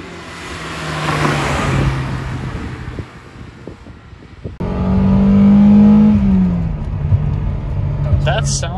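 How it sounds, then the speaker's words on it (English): A 1987 Mercedes-Benz 190E 2.3-16v engine revs hard with loud mechanical and intake noise, rising and falling close by, with wind buffeting and people talking over parts of it. "It's just like just pure mechanical and just intake noise and just it just sounds so good."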